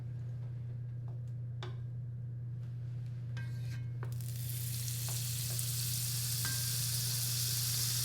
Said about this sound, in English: Alright, so I'm going to put in some butter first.